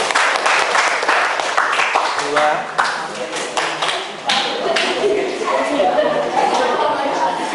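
Classroom students applaud a presenting group in a junior high science lesson, a burst of clapping that dips and swells again, mixed with voices talking over it.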